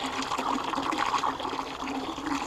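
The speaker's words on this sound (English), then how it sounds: "Fill it up with water" Water gushes from a tap into a 5-gallon bucket, a steady rushing fill with a faint rising tone as the level climbs, heard alone throughout.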